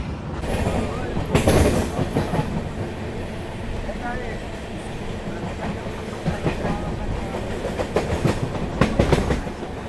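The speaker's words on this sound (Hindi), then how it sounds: "अपनी ट्रेन बाबा बैजनाथ धाम Deogarh superfast express Kanpur centre से डिपार्चर ले रही थी" The 22465 Baba Baidyanath Dham Deoghar Superfast Express rolls along the rails after leaving Kanpur Central, heard from on board. Its steady rumble carries rhythmic clickety-clack wheel beats throughout, with faint voices in the background.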